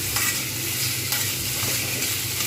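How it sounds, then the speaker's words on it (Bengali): Potato pieces fry in hot oil, a loud, dense, continuous sizzle heard up close with faint stirring movements underneath. "আলুটা একটু ভেজে নিতে হয়"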